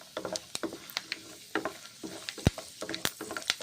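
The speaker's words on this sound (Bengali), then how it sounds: "বাদাম দিচ্ছি, ভেজে নিচ্ছি গরম তেলে।" Nuts and masoor lentils fry in hot oil while being stirred, giving a sizzling crackle broken by sharp, irregular scrapes and taps of a spoon against the pan, heard close up.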